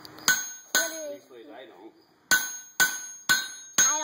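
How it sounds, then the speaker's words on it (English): A hammer strikes hot metal while a small survival knife is forged, giving sharp ringing clangs: two quick blows, a pause with faint speech, then four evenly spaced strikes close and loud. "He's going to strike it with his hammer."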